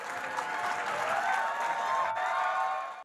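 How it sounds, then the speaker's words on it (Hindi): Sustained applause from a large audience at a literature festival, steady and loud, cutting off abruptly at the end. "जोरदार तालियों के साथ स्वागत कीजिए कुमार विश्वास जी का।"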